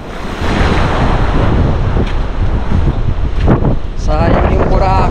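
Heavy ocean surf crashes continuously at Boracay Island at sunset, with strong wind buffeting the microphone, a loud, rough wash of waves; a voice briefly speaks near the end.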